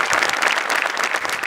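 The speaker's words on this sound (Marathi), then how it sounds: "आणि मोठे सरांसाठी एकदा जोरदार टाळ्या" A studio audience at a Marathi comedy show breaks into loud, sustained applause, dense clapping filling the room without pause.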